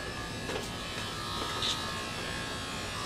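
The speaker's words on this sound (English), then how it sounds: "So it's a very fast and powerful clipper." Electric hair clippers fitted with a guard cut hair with a steady, close buzzing hum. The tone stays constant, with only slight changes as they move.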